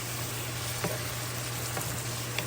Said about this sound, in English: Alright, guys, so the vegetable is cooking up nice. Do you hear that sizzling sound?